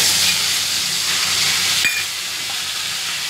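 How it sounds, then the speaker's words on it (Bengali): Spice tempering for a paneer dish hisses and sizzles loudly in a hot pan, a dense steamy roar with one sharp tap partway through before easing slightly. "এই ফোড়নটা দিয়ে দিচ্ছি।"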